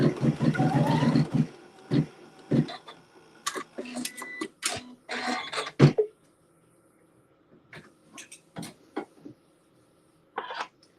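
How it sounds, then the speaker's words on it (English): A sewing machine stitches a quilt seam with neutral thread, starting with a steady mechanical whir for about two seconds, then giving way to scattered clicks and short knocks that fade to near silence, with a final brief burst near the end. "So I'm going to stitch this seam."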